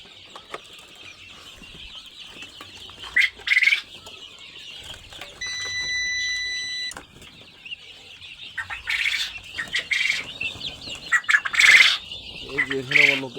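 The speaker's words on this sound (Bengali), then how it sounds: "এত ভয় পাইছে যে আমারা দেখে উড়াউড়ি অনেক করতেছে।" Frightened caged lovebirds on a farm after a cat attack, flapping wings in bursts and letting out sharp, loud squawks and chirps close by, with quieter stretches between flurries.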